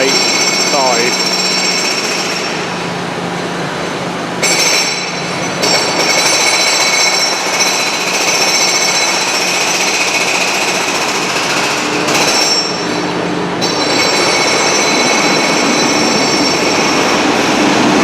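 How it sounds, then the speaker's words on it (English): Northern train, unit 319 385, pulling out of the station toward Liverpool Lime Street, a loud, sustained rumble with grinding and squealing wheel noise that surges and dips as it moves close by, with no one talking. "Now leaving with the 839 Northern service to Liverpool Lime Street."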